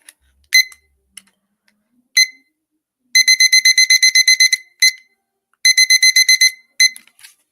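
A timer alarm goes off as several clusters of sharp electronic beeps, with single chirps between rapid runs of repeated beeps. It is loud and close, with no voice over it.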